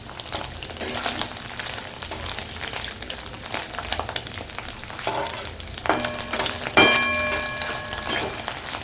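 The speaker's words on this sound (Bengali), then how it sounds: "পনির ভাজার সময় হিট বেশি দিয়ে ভেজে নেবেন" Paneer pieces fry on high heat in a kadai, giving a steady close sizzle broken by a few sharp metallic clinks and ringing taps of a utensil against the pan.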